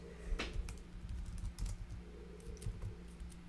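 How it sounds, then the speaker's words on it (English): Fingers clatter on a new computer keyboard in an irregular run of light, close clicks and taps, with a low steady hum beneath and no talking. "I can't type. Yeah, new keyboard."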